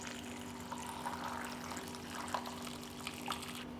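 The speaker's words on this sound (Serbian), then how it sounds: "I na kraju ću šerpu napuniti sa vrelom vodom do visine poklopca." Hot water is poured into a pot, a steady faint trickling and splashing stream over a low hum, with small gurgling accents.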